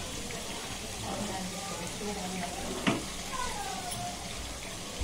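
Rice fries in plenty of oil for chicken Sindhi biryani, giving a steady, even sizzle that continues throughout, with a brief scrape or stir partway through.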